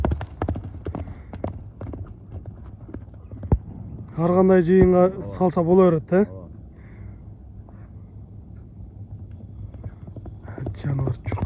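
Hooves of English and Kyrgyz horses clip-clop in a steady rhythm, while people talk nearby through much of it.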